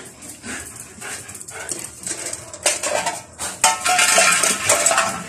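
Guard dogs eat from metal dishes outdoors, with clattering bowls and clinking as the food is served and the dogs move about, growing louder and busier toward the end, with a brief voice now and then.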